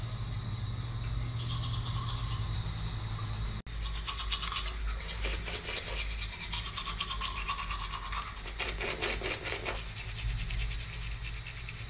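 Teeth brushed with a toothbrush around dental braces, close and continuous scrubbing with busy scratchy back-and-forth strokes, a short break after a few seconds, then more vigorous brushing with no talking.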